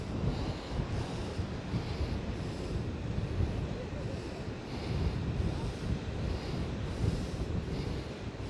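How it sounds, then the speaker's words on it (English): Steady wind buffets the microphone on an outdoor hiking trail, a continuous low rumble with gusty swells that stays loud throughout, with no voices over it. "even though it's windy now"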